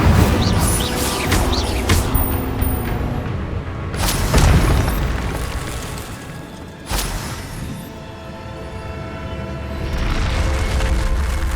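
Incendio fire spell effect in the video game Hogwarts Legacy, heavy booming fire bursts with rushing roars, several loud whooshing blasts spaced a few seconds apart over a continuous rumbling bed.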